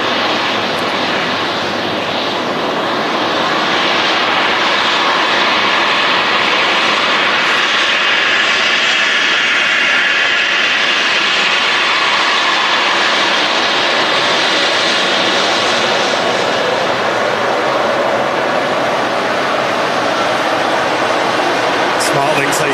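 An airliner passes over the airfield at Manchester Airport, a loud, sustained broadband jet roar that swells and fades gently across the whole stretch. A person talks over it.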